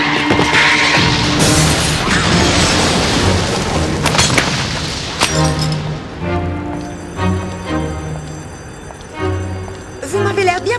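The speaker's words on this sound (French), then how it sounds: "Prévenez la garde, il y a eu une explosion!" An explosion from an animated Tekken episode bursts as a loud, roaring boom with crashing debris that rumbles for several seconds, then fades into quieter scattered impacts.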